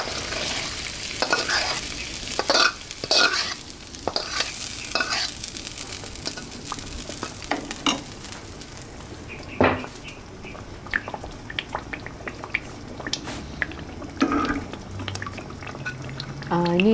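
Fried ground chili paste is stirred into a boiled peanut sauce in a pot, giving bubbling, wet stirring and scraping with repeated clinks, close and continuous, while someone talks over part of it.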